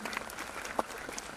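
A brief burst of audience applause at the FIESTA-2025 event honouring a guest: many hands clapping together in a steady, moderately loud patter.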